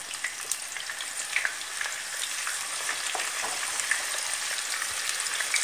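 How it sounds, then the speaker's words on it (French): Aubergines, first salted and drained, fry steadily in hot oil, a dense continuous crackle with scattered sharper pops, moderately close and without any voices. "Je mets mes aubergines à frire."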